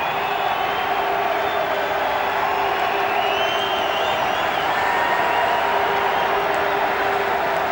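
Rugby crowd at a Bristol versus Bath match cheering the team, a continuous loud roar of voices with whoops, with a commentator talking over it.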